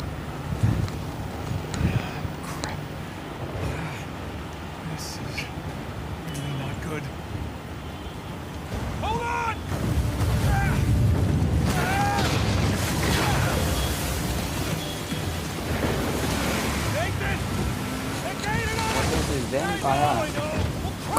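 A boat engine drones over splashing waves and rain in Uncharted 4, a rough mid-level rumble that swells and surges, with game sound effects layered on top.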